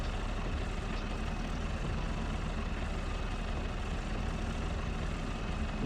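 A tractor engine idles steadily in Farming Simulator 22, its muffler shaking, giving a dense, even, low rumble that holds unchanged throughout with no talk over it.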